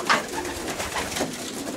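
A racing pigeon coos softly nearby, one low throaty call followed by a few quieter murmurs against a faint indoor background.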